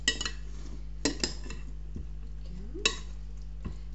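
A utensil clinks and scrapes in a bowl or dish while chicken wings are tossed in barbecue sauce, several sharp close metallic taps spaced irregularly over a low steady hum, with a faint wet squelch.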